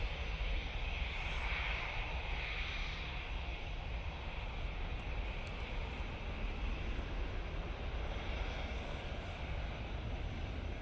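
At Manchester Airport a Jet2 airliner passes, a steady, fairly faint broadband jet rumble continuing throughout with no talking.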